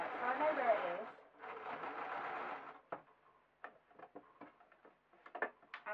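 A sewing machine stitches around a circle of elastic cord on a fleece balaclava, running in two steady close whirring bursts, then giving way to quieter ticks and clicks.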